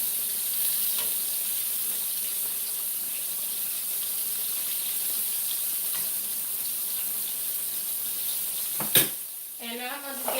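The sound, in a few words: green tomatoes frying and sizzling in a pan, being flipped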